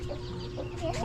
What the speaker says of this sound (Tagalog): Chicken.